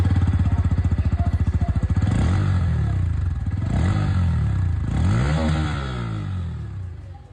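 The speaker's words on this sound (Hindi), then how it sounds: "एन की जो एग्जॉस्ट साउंड है वो आप लोग सबसे पहले सुन लीजिए" A 2024 Bajaj Pulsar N160 motorcycle exhaust throbs at idle, then the engine is revved three times, each rev rising and falling, loud and close.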